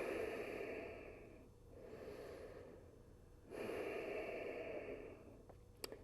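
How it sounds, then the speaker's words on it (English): Slow, audible breaths drawn in and out during a yoga pose in a live studio class, two long soft exhalations separated by a pause, close and quiet with no talking. "Take a round of breath here."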